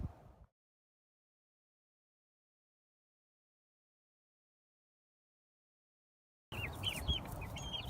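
Chickens cluck and chirp at a farm after a long silence, a short burst of busy, close fowl calls with scattered higher peeps over a low background rustle.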